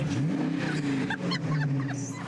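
A powerful British TBR Chimera sports car revs its engine nearby. The engine note rises and falls in a throaty growl throughout, with brief blips of throttle.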